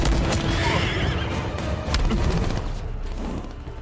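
Horses neigh and whinny loudly in a Mortal Kombat style fighting video game, a dense burst of overlapping cries with thudding hoof-like clatter, fading slightly toward the end.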